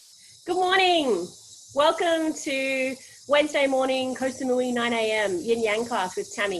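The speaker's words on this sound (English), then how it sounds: "We've got some birds and cicadas joining us for the class today." Cicadas in Koh Samui keep up a faint, continuous high buzz in the background while someone talks over it, close and clear.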